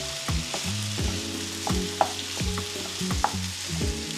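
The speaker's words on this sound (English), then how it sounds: "just having some rice and sauteed tomato." Rice and tomato saute in a pan, giving a steady frying sizzle with repeated scraping stir strokes in a loose rhythm, close and clear, with no talking.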